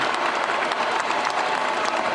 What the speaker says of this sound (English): we first have to give a round of applause to the Denver Nuggets